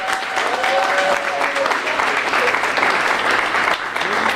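Room full of students, guests and teachers clapping at a hospitality suite grand opening, steady dense applause lasting several seconds, with voices mixed in.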